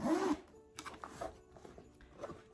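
A zipper is opened or closed on the soft leather top of a vintage silverware tarnish prevention box. A short, fairly loud zip opens the clip, followed by fainter handling sounds.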